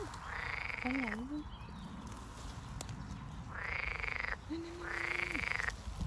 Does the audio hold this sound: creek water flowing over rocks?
no